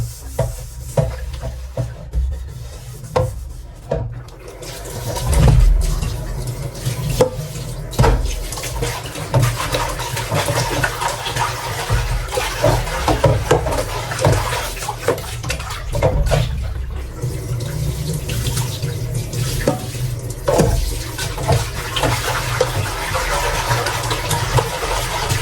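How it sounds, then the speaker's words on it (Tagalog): A wok being rinsed under running water in a home kitchen during pancit bihon cooking, with a steady splashing wash, scattered clinks and a low engine-like hum underneath, continuous for the whole stretch, no talking. "Hugasan ko lang po muna itong kawali."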